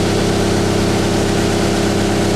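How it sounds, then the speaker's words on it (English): Engine of a midsize folding conveyor machine idling at low speed, a loud steady droning hum with a constant pulsing rumble and no talking. "I'm doing this at low engine speed, nice and slow idle."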